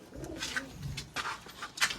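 Pigeons coo softly nearby in a few low, throaty bursts, with light rustling and faint chirps between them.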